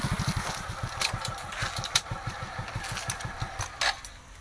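A motorcycle engine putters steadily up close, its regular low thumping running throughout with a few sharp clicks and rattles on top.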